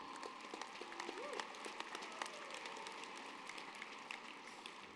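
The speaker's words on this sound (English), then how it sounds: "Yeah, go ahead and clap." Faint, distant clapping from a large audience at the 2024 Alta High School graduation commencement, a soft continuous patter under a quiet hall hum.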